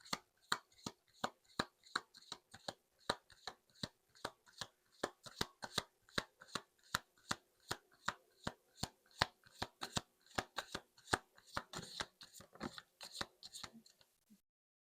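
A deck of cards shuffled repeatedly for a card reading, producing a steady run of crisp riffling snaps, close and fairly loud, with no talking.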